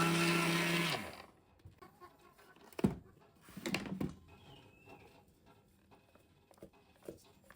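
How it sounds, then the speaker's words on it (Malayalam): A kitchen mixer grinds coconut with amrutham powder in a loud, whirring burst for about a second, then cuts off, leaving scattered clatter and faint handling noises. "തേങ്ങ ഇട്ട് കൊടുത്തു നമ്മൾ ഈ അമൃതം പൊടി ഒന്ന് പൊടിച്ചിട്ട് ഒന്നും കൂടി"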